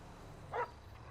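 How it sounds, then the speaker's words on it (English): A single short bark from a police dog in the LSPDFR video game, faint and brief over a quiet low hum. "He's barking because I'm putting the weapon."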